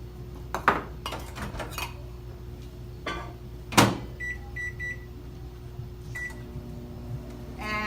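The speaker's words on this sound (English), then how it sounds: "So I'm going to put this in the microwave." A microwave oven heating seasoned chicken: dish and door clatter as it is loaded, a few sharp keypad beeps, then a low steady hum of the running oven close by.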